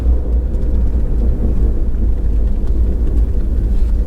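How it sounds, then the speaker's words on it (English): A Shelby GT350 V8 with an X-pipe and resonator delete gives a deep, steady engine rumble, constant and loud throughout, low and throaty, with no distinct rev peaks standing out. "Let's give it a couple of revs and see how this goes."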